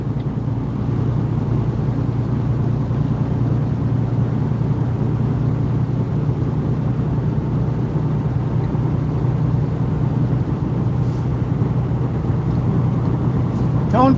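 A big truck rolls along backwoods roads around Valdosta, Georgia, its steady low engine rumble and road noise droning close and continuous, with faint talk at times.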